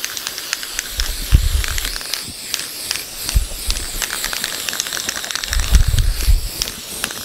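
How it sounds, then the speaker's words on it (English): An aerosol can of edible lustre spray hisses in several short bursts onto a cake, close by, with a few low thumps and crackles between sprays and no talking. "we're just going to spray that on the front of the cake, just down the bottom."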